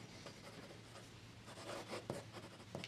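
A Stipula Magnifica fountain pen with a stub nib writes on paper, giving soft, faint scratchy strokes in short irregular bursts, close to the ear, with no voices.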